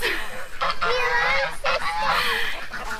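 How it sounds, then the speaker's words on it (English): Several geese in a farm pen honk loudly and close together, overlapping nasal calls in quick bursts with a low rumble of movement underneath. "let's put some snacks out so we can silence the geese"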